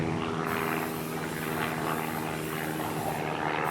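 An airplane drones steadily as a sound effect in a spoken story, a continuous propeller-like engine hum with wide broadband roar, moderately loud and unbroken, with no talking over it.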